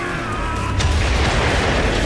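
Explosions in the video game Trails Fusion, heard as dense, continuous rumbling bursts with a brief sharper crack, all blended into a loud, steady wash of noise.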